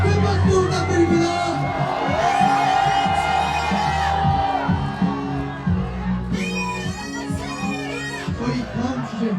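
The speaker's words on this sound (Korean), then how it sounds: "교수님께 큰 박수 부탁드립니다" A crowd at a university rally in Korea cheers and shouts with applause under it, loud and close, while voices call out over the continuous noise.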